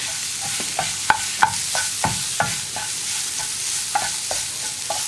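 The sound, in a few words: stirring ground lentils into frying capsicum in a pan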